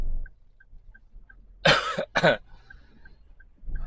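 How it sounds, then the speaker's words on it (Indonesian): Two sharp coughs close by inside a car, one right after the other, with quiet background and faint periodic beeps. "Sedikit batuk ya."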